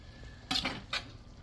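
Asparagus being stirred into a shakshuka mixture in a pan, heard as two short scraping clatters of a utensil against the pan over a low background hum, with no talking.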